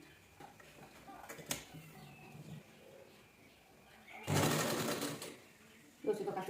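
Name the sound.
sewing machine stitching a blouse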